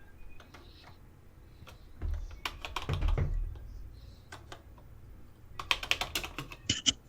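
Fingers tap on a computer keyboard in uneven bursts of crisp clicks, sparse at first and then quicker and louder near the end, with a low thump partway through and no speech.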